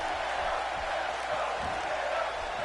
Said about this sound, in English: Crowd chanting for Hideo.